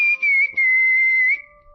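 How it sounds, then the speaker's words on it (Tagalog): A man whistles a sustained, slightly wavering tune close by, broken by a couple of short pauses, then fades into quiet. "Isinara niya ang kanyang tarangkahan habang pasipol-sipol."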